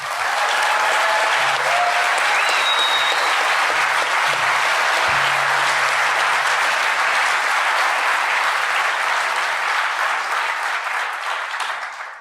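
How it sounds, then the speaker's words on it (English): Sustained loud applause from a conference audience at a DEF CON session, steady dense clapping filling the whole stretch and tapering slightly at the end. "let's give it a huge round of applause for these 2 pioneers"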